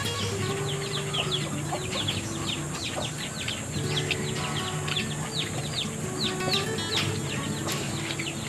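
Chickens cluck and chirp repeatedly over a steady background hum, moderately close and fairly faint, with no talking.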